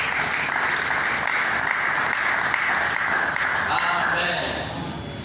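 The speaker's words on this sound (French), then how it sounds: "Et applaudissons notre Dieu." A church congregation applauds in praise, a loud, dense wash of clapping that continues for several seconds and then fades near the end, with voices mixed beneath it.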